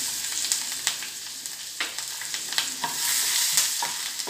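Garlic and ginger sizzle in a hot pan for a paneer butter masala, with a steady frying hiss punctuated by scraping clicks of a spoon stirring them.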